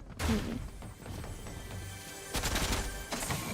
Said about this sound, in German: warum habe ich geschossen?